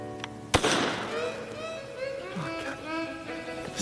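An ancient rocket weapon goes off with one sharp, loud crack, then a hissing whoosh trails away while voices carry on nearby.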